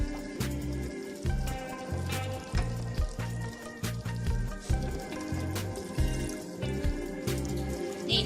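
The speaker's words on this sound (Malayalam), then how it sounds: "ഞാൻ കുറച്ച് വെള്ളം ഒഴിച്ച് കൊടുക്കാണ്." Water poured into kadai chicken in a hot pan: bubbling and splashing with some sizzle, close and fairly loud, in uneven surges over eight seconds, no talking.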